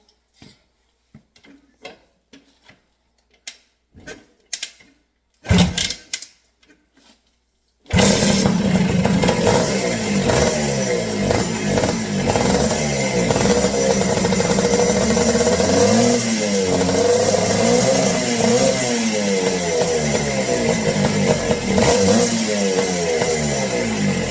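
A 1981 Honda ATC 250R three-wheeler is kicked over with a few sputtering attempts, then its engine catches and runs loudly nearby, revving up and down repeatedly with a raspy two-stroke buzz.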